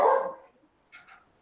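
A dog gives one loud, close bark, followed after a short pause by a couple of fainter, higher yips, heard during an outdoor town planning meeting with no speech over it.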